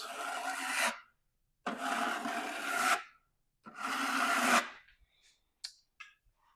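A putty knife drags drywall putty over a patch in three long, rasping scrapes about a second each, with short silent gaps between them and a few faint taps after.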